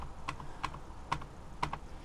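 A UTEC Smart colour-changing computer keyboard is typed on with a handful of sparse, crisp keystrokes, quiet and close, spaced unevenly over a soft room background.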